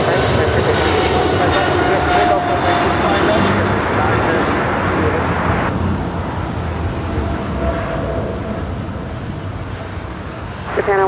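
A jet at LAX on runway 25 right roars steadily, loud and broad, slowly fading as it climbs away, with radio chatter from air traffic control heard underneath.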